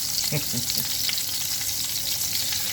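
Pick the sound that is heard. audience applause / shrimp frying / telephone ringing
shrimp frying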